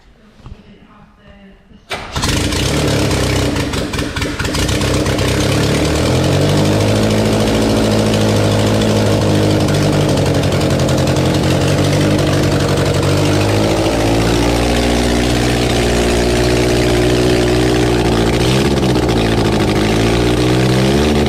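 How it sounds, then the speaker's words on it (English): A Lotus Europa's engine cranks and catches after 35 years unused, running without exhaust pipes, then settles into a loud, steady, close idle with slight shifts in pitch. "we're about to start the engine"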